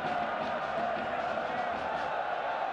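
Dense football stadium crowd roars and jeers continuously, baying for a second yellow card after a foul, a steady loud wall of voices with no breaks.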